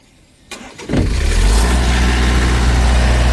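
A Kohler 20 kilowatt diesel generator aboard a 2006 Marathon touring bus cranks briefly and catches, then settles into a steady, loud low hum with no talk over it.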